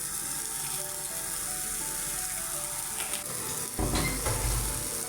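Mixed vegetables frying in a pan with cumin powder, a steady soft sizzle with occasional stirring scrapes, and a louder burst of sizzling near the end.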